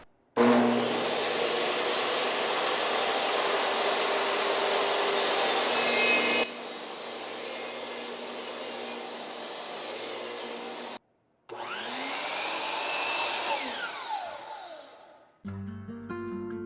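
A saw rips wood boards into 1-inch strips with a loud, steady roaring whine that drops in pitch midway, cuts out briefly, then resumes and winds down.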